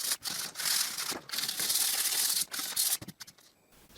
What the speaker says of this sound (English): Now I sand the splinters in the other side